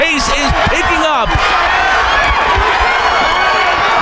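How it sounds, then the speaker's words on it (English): Crowd noise swells and holds steady under busy commentary at a women's fight event, with a sustained roar and rhythmic chanting mixed in, loud and close throughout. "The crowd is chanting."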